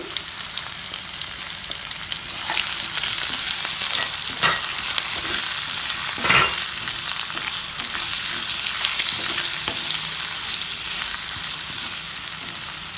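Baby potatoes fry with garam masala and turmeric in a broad, constant sizzle close up, broken by a few sharp scrapes and stirs, with no one speaking.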